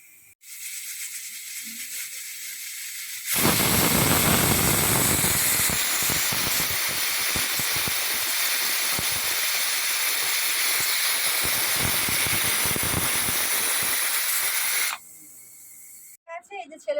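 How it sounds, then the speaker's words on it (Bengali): A worn, faulty pressure cooker whistle releases a loud, continuous hiss of steam that runs for about eleven seconds, close up in a home kitchen, then cuts off abruptly. "আমার প্রেশার কুকারটা না একদম খারাপ হয়ে এসছে গো মানে বুঝতে পারি না মানে সিটিটা এক এক সময় এত প্রবলেম করে সিসি আওয়াজ হচ্ছে"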